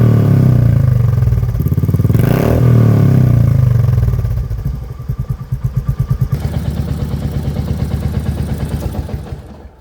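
A heavy-flywheel motorcycle engine idling low, around 900 to 1000 RPM: a loud, close rumble with a brief rise, then separate thumps that slow and fade as the engine is shut off and coasts to a stop.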